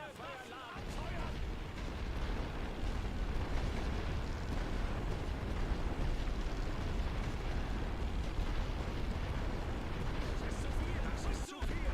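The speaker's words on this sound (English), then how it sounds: "Feuerwalze einleiten." An artillery barrage fires in the video game The Great War: Western Front, a dense, continuous roar of blasts and rumbling that fills the whole stretch with no distinct shots. A brief break comes near the end.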